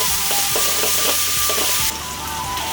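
Pickled ginger and pickled chilies stir-fry in hot oil over high heat in a wok, a loud continuous hiss broken by several rhythmic spatula scrapes, then the sizzle settles slightly quieter.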